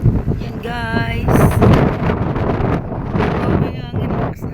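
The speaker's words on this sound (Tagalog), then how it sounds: "Grabe ang hangin. Lakas na hangin guys." Strong wind buffets the microphone in a steady broadband roar at People's Park in Tagaytay, with a voice talking over it and brief tonal sounds rising in the background.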